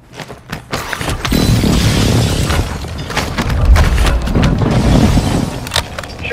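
Airstrike explosions in Call of Duty: Warzone 2 rumble as a sustained heavy boom with a deep low-end swell, preceded by a few sharp cracks and ending in scattered bursts, loud and close.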